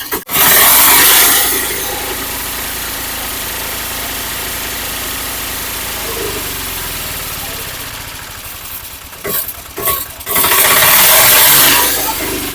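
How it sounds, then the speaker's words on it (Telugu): A 2019 Mahindra Alfa three-wheeler engine starts with a loud burst, then settles into a steady, rough idle that runs for several seconds, with brief revving bursts near the end. "స్టార్ట్ చేస్తాం సార్ ఇంజన్ బీటింగ్ ఎలా అనేది"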